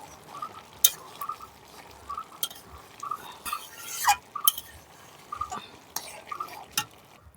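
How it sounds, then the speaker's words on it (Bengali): Ghugni with potatoes is stirred in a pot with a spatula, intermittent scraping and metallic clinks against the pot, with a few sharper knocks from the lid, close and fairly quiet. "এরকম মাঝে মধ্যে ঢাকনা তুলে একটু নেড়ে চেড়ে দিতে হবে।"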